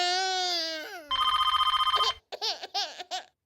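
A telephone rings in a domestic drama scene, a sustained electronic tone followed by a rapid pulsing ring burst, then short chirping rings with gaps, clear and near with no talk over it.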